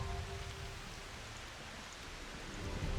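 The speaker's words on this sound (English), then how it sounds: "No wonder the rain was like a bit heavier." Steady, dense rain from a thunderstorm in the Final Fantasy XIV game world, a continuous hiss with low rumbling underneath, fairly loud and unbroken with no voices.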